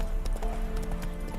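Roach, Geralt's horse in The Witcher 3, trots with quick, close clip-clop hoofbeats over a low, dense bed of battle and ambient noise, brief and loud.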